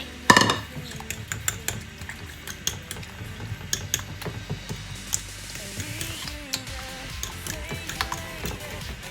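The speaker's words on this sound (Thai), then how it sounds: "นี่ไข่เราก็ตอกเสร็จแล้วเราก็ จะมาตีไข่นะคะ" Beaten eggs with chopped shrimp are whisked in a bowl for steamed egg, giving rapid, irregular clinks and taps of utensil against the dish, close and crisp over several seconds.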